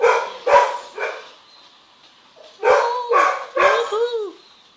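A dog in the video game Call of Duty: Ghosts barks in two bursts: a few sharp barks, a pause, then three more barks trailing into whiny yelps, fairly close and loud.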